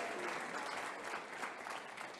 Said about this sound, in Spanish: Denle un aplauso a Jesús, por favor.